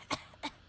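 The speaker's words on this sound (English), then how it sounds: "As I have like mom smoker cough" A woman's smoker's cough, two short rough bursts close to the mic, the second slightly weaker, with a faint trailing catch, during a casual MTG Commander game night.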